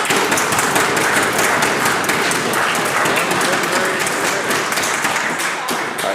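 Applause fills the BC Legislature chamber during a budget sitting, a dense, loud, continuous patter of many hands from members led by the Premier.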